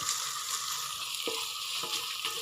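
Ginger-garlic paste frying in a pan for a beef roast gives a steady, even sizzle throughout, with a few faint scrapes as it is stirred.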